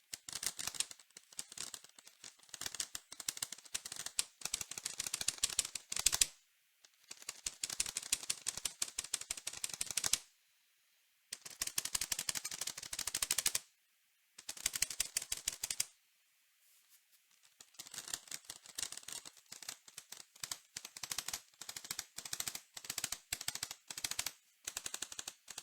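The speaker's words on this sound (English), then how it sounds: "the stabilizers sound pretty good, but the switches sound very dry" Rapid clacky keystrokes on a Gamakay K61 mechanical keyboard fitted with HyperX pudding keycaps, typed in dense bursts separated by short pauses, close and crisp with a dry, rattling character.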